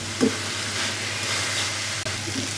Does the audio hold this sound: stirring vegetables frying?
yes